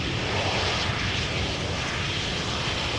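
Up close at Amsterdam Schiphol, a landing airliner blasts a dense, loud, unbroken jet roar across the runway, steady from start to finish with nothing else heard.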